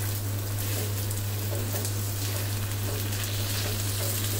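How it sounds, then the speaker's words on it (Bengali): Rice frying in oil on medium heat for chicken pulao, a steady close sizzle with soft crackling throughout and a constant low hum beneath, no talking. "এখন দিয়ে ভালো মতন চুলার আঁচটা মিডিয়াম আছে, এই চালটা একটু ভালো মতন ভেজে নিতে হবে।"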